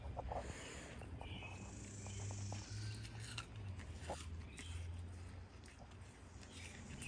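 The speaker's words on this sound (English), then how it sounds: "He's eating the apples right now. I could tell the way he's crunching." A buck deer eating apple slices outdoors at night. Faint, irregular crunching and chewing sounds over a steady background hiss, with no voices.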